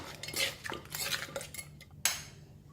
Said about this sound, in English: So another 1 more teaspoon of sugar. Just quickly mix them up.